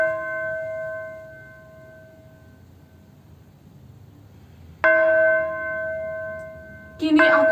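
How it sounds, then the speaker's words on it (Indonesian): A church bell tolls with a long, ringing tone that slowly decays into near silence, then strikes again loudly, followed by a burst of other noise at the end. "Aku mendengar suara lonceng gereja."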